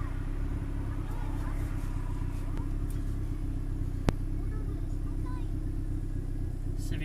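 A Honda Civic turbo fitted with a full custom exhaust idles at a workshop, giving a steady low rumble throughout with a sharp click partway through.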